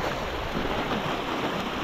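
Sea waves washing against rocks on a shore, a steady, loud roar of surf and rushing water mixed with wind buffeting the microphone, with no pauses.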